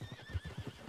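A horse whinnies in a rising, quavering call over a low rhythmic rumble of hooves and movement, close and fairly loud throughout.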